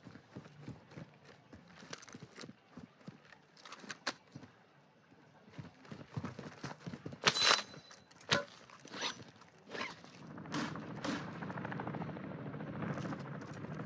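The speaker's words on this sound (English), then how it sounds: "I hear helicopter." Helicopter in the video game Call of Duty: Modern Warfare II, a low rhythmic thumping rotor growing louder, mixed with hurried footsteps and scattered clicks and thuds, faint at first then building.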